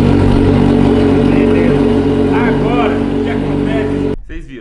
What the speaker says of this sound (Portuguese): A moto tá ligando certinho